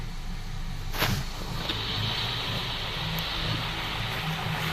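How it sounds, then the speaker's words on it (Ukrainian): Close, steady idle of a 2010 Skoda Superb 1.8 TSI petrol engine after injector cleaning, an even, smooth hum with no stumbling, heard alone with one brief click near the start. "Ось так от працює наш двигун. Рівно, стійко, не трусить його."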